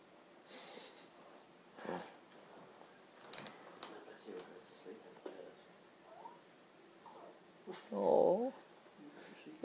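A West Highland Terrier puppy gives a brief squeaky, breathy yawn near the end, after quiet snuffling and soft breathing sounds with faint background noise.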